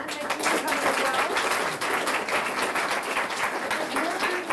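An audience applauds at a public talk on coastal climate change and energy, a dense, steady wash of clapping from a room full of people that holds evenly throughout.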